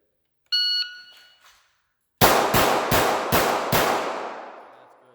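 Pistol fire at a shooting range, five sharp close shots in quick even succession, each followed by a ringing decay, after a short electronic beep from a shot timer.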